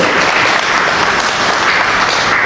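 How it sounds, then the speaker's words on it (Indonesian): Loud, dense applause from an audience at a civic gathering, a continuous wash of many hands clapping at close range throughout, with no speech heard. "Tepuk tangan dulu."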